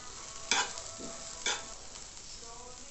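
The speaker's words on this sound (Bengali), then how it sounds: "আমি একটু হিং দিয়ে দিচ্ছি নামাবার আগে, আর দিয়ে দিচ্ছি একটু ঘি" Asafoetida and ghee added to a pan of cooked green peas sizzle steadily, with two clear stirring scrapes and a soft crackle throughout, no talk.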